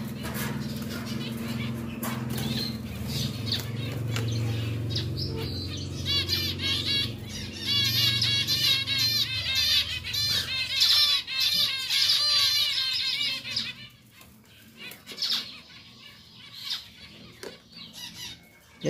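Pied zebra finches chirp and squawk in rapid, dense bursts with brief wing flaps as a pair is moved into a new cage, loud and close, with a low hum and some handling noise underneath.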